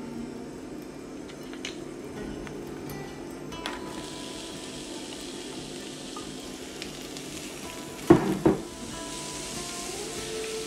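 Onions frying in oil in a pan on the stove, a low steady sizzle under faint kitchen noise, with a brief louder clatter midway.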